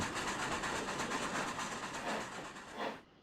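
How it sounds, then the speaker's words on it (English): Steam locomotive number 750 pulls an excursion train past with a steady, rhythmic clatter of wheels over rail joints and a hissing wash of noise, fairly faint and distant, cutting off abruptly at the end. "That was number 750, owned by the Atlanta chapter of the National Railroad Historical Society, pulling its own excursion"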